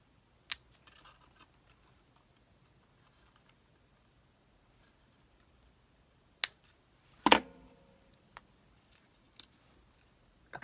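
Scissors cutting paper ephemera for a craft project, a handful of sharp, isolated snips spread far apart across otherwise near-silent surroundings, heard close.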